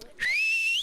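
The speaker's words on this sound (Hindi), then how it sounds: "हम लोग हाथ से सीटी बजाते हैं।" A person whistles sharply through their fingers as an alert signal during a disaster in Dharali, Uttarakhand, sounding one loud, close, sustained shrill tone that rises slightly in pitch after a brief stretch of quiet.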